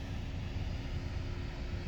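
A steady, broad engine drone from a fixed-wing aircraft passing overhead holds at an even level for the full two seconds, with no voices.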